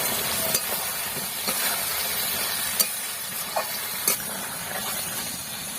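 Chicken meat with two whole onions being stirred and sautéed in a pan for dak bungalow chicken, a steady low sizzle under scattered scraping clicks of the spoon against the pan, with no talking.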